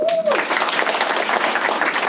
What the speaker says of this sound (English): You got a woo from the crowd.